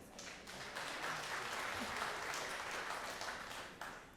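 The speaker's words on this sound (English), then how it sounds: "Audience, clap if you think this was Sam Alito." A live audience at a Washington, DC show claps steadily for about four seconds, a broad, even wash of many hands at moderate distance, rising slightly then tapering.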